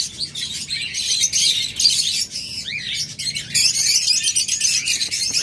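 Pair of pet cockatiels chirping and squawking close by in a bird-selling setting, a dense run of bright calls, some overlapping, continuing throughout with no talk.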